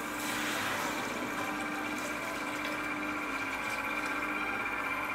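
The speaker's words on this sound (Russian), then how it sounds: "Все, заливаем сюда воду." Filtered water poured steadily into a cooking pot for Tom Yum soup, a continuous splashing rush that holds at an even level throughout with no talk.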